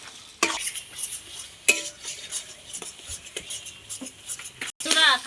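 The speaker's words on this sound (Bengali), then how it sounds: "এইবার আমি খানমান পাতাটা খুব সুন্দর করে ভেজে নেব এই লবণ হলুদ দিয়ে।" Khanman leaves fry in a kadai with salt and turmeric, a soft sizzle under repeated scraping and clinking of a spatula against the pan, with sharp metallic knocks scattered throughout.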